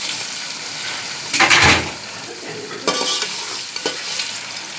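Chicken pieces frying in ghee with whole spices crackle and sizzle loudly up close, with a burst of stirring and scraping near the start and a few sharper spatters later.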